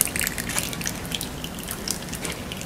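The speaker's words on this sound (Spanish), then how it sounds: "ahí sacamos el aceite" Engine oil mixed with coolant water drains out of an engine with a blown head gasket, dripping and trickling steadily with scattered splashy droplets over a low background hum.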